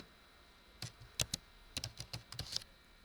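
Typing on a computer keyboard: a run of crisp, irregular keystrokes, close and clear, with short bursts and brief pauses and no talking.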